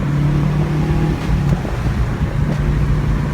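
Car accelerating in second gear after a Cobb short throw shifter install, steady loud engine drone with road and wind noise throughout, a couple of brief mechanical shifts or clunks mid-drive.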